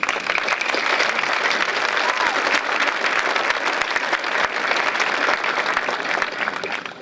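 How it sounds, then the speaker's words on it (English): Sustained applause from a large audience at a high school graduation ceremony, dense and even clapping that holds steady for several seconds without a break. "You definitely deserve a round of applause."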